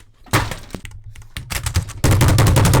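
Shotgun fire in a video game comes as loud, sharp cracking blasts. They start as separate shots and build into a dense, rapid barrage toward the end.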